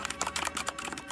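Quick, uneven tapping of computer keys in the Roblox game Flee the Facility, a short burst of soft clicks at moderate volume with no speech over it.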